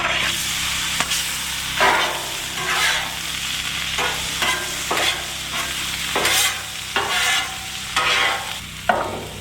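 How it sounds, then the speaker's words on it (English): Peppers and tomatoes sizzle in a pan at a lakeside campground, with a constant frying hiss broken by repeated scraping bursts of stirring, close and fairly loud. "we're gonna throw down the veggies. We got some peppers and tomatoes"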